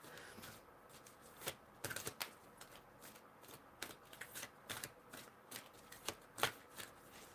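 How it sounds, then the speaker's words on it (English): A deck of number cards is handled as one card is drawn, giving soft papery flicks and snaps in an irregular run of quiet, close clicks with no talking. "Pull a number card for us."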